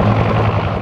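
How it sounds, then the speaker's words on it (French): Gazelle helicopters of the Lebanese air force and French army light aviation fly over a military exercise area near a beach, a loud steady rotor and engine roar held throughout the brief moment. "2 hélicoptères Gazelle de l'armée de l'air libanaise et 2 de l'aviation légère de l'armée de terre française se déploient au-dessus du théâtre d'opération"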